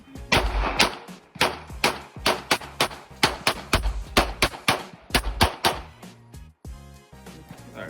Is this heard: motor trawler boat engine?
no